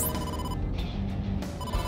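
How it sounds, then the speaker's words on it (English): Phone ringtone from an incoming call in the video game AI: The Somnium Files, a steady electronic ring at moderate level over a background music bed, with no talk. "Date, incoming call from the boss"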